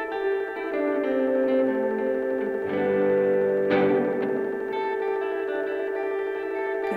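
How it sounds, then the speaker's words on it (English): Two freeze effects feeding a stereo reverb, played through a Poly Digit effects pedal: sustained layered tones swell into a dense, shimmering wash with a brighter surge midway, holding steady throughout with no voice. "This is two freezes attached to, I think, a stereo reverb."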